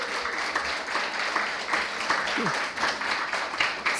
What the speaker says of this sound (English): he deserves a huge applause for the immersive experience he gave everybody